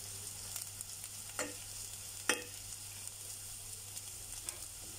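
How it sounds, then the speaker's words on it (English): Carrots and onions frying in a pan give a quiet, steady sizzle throughout, with a few sharp crackles and pops standing out now and then, including one louder pop near the middle. "You can see our carrots and onions are frying up nicely."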